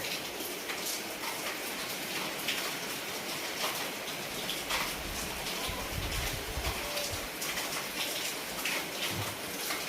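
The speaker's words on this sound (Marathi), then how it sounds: "लय पाऊस बघा रपा रपा रपा निसता पाऊसच पाऊस चाललाय" Heavy rain pours down in a dense, even hiss with scattered drops pattering on surfaces, continuous throughout with no voices.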